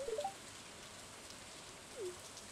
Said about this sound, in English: And when it's raining all day, like, nobody's outdoors.